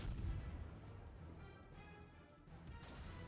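Heavy naval guns fire in World of Warships, the French battleship Normandy shelling a destroyer: a loud booming blast at the start, then a continuous rumbling wash of battle noise with no talking.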